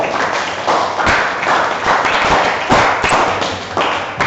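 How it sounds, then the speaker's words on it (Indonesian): Schoolchildren in a classroom clap their hands for their classmates, a dense and fairly loud burst of many small hands patting in uneven rhythm, with a few sharper thumps standing out. "Tepuk tangan anak-anak untuk teman-temannya"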